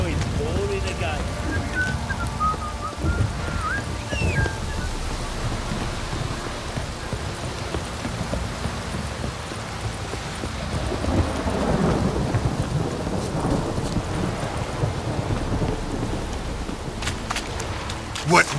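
Rain pours and thunder rumbles in The Witcher 3, a continuous hiss of downpour with deep low rolls of thunder building midway, and a man grumbles at times beneath the storm.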